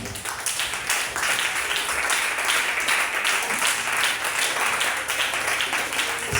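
Church congregation at a Foursquare convention national day applauds and cheers in praise, a dense sustained wash of clapping with scattered voices, loud and steady throughout.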